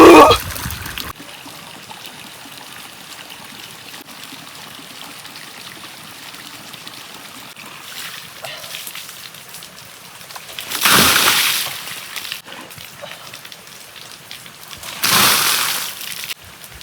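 Water runs steadily from two taps in a bathing area, a soft continuous trickle punctuated by two loud splashing bursts of poured water, with no voices.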